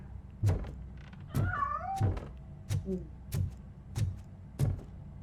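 A cat meows a few times in a quiet room, with soft thumps and knocks scattered between and around the faint, drawn-out cries.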